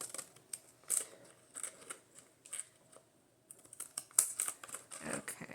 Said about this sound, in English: if you've ever cut with these scissors